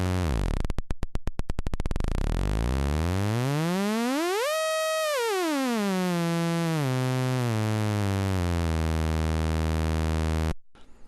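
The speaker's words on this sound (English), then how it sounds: "The sawtooth is yet more harmonics and has a buzzy quality." A buzzy sawtooth tone from a modular synthesizer oscillator starts with rapid pulsing clicks, then sweeps upward and back down in pitch before holding and cutting off abruptly.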